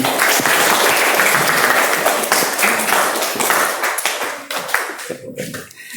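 Classroom of students clapping together, a dense burst of applause that stays loud for several seconds, then thins out into scattered claps and fades.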